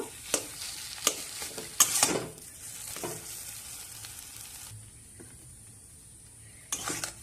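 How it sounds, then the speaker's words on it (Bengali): Potato filling for kachori sizzles softly in a pan while a utensil scrapes and clinks against it, giving several sharp stirring knocks early on, then a fainter sizzle with one more scrape near the end. "এবার তিন চার মিনিট আলুটা কষিয়ে নিয়ে একটা থানায় ঢেলে ঠান্ডা করে নেব"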